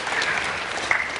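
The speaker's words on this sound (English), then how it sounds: "you can clap for me also" Brief burst of audience applause at a corporate annual general meeting, a dense wash of clapping from a seated crowd, moderately loud and steady.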